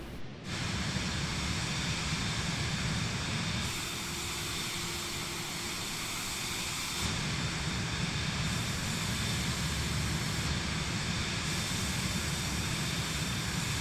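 Steady airplane engine drone inside a flight simulator game, a loud continuous hissing roar that shifts tone and level a few times over about fourteen seconds, with no talk.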